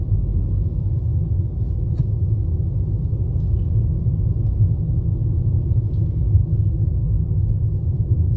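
Steady low engine rumble inside a Ford EcoSport Titanium with the 1.5 Ti-VCT petrol engine while driving, a constant droning hum at even loudness throughout with no talk.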